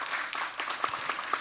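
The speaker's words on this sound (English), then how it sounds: "give them an extra big applause" Audience applause after a conference panel on green industrial facilities and circular manufacturing, short and fairly quiet, a scattered patter of claps with a few sharper hand hits standing out.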